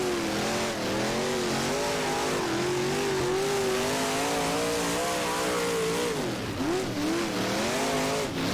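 Big-block race car engines in the rFactor racing game roar continuously at Lawrenceburg, a loud sustained drone rising and falling with throttle, with faint tire squeal as the cars lap.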